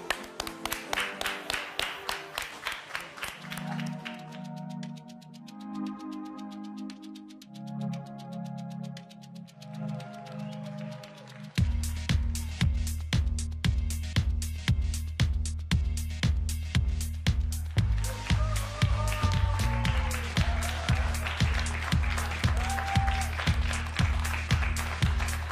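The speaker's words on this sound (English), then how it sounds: "Give her a big round of applause." A studio audience on a live Olympic Channel show welcomes a figure skating guest with rhythmic, steady clapping that swells partway through, mixed with tonal music playing underneath.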